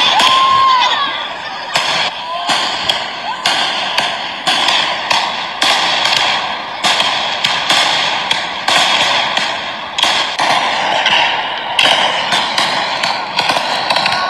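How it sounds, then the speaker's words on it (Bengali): American Independence Day fireworks burst continuously in rapid, overlapping cracks and pops, loud and close, with a crackling rhythm that never lets up and a faint whistle near the start. "তোমরা ফায়ার ওয়ার্ক দেখতে পাচ্ছ"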